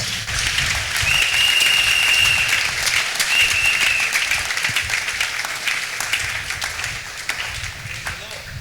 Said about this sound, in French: Acclame pour le Seigneur Jésus-Christ.